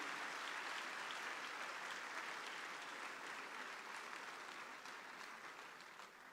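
Graduates and guests at a university convocation give sustained applause, a broad wash of many hands clapping in a large hall, steady and then slightly fading, with no talk over it.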